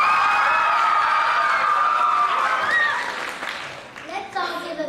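Applause and cheering from an audience at a school play, loud and steady at first with high voices ringing over it, then thinning into scattered claps and chatter toward the end.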